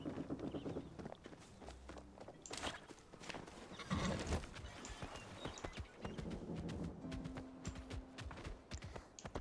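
Horse hooves clip-clop steadily while riding in the video game Palia, a continuous trotting rhythm under game music and ambient effects.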